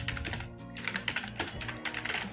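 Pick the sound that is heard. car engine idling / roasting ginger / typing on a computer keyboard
typing on a computer keyboard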